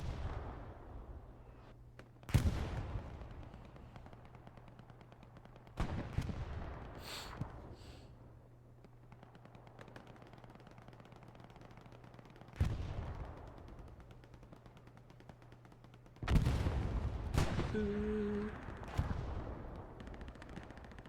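Gunfire and explosions from the World War II shooter Hell Let Loose, in a tournament match: several heavy booming shots and blasts ring out at irregular intervals, each decaying into a rumbling tail over a low steady hum.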